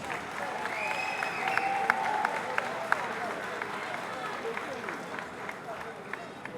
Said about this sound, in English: Let's get a round of applause to these two outstanding boxers.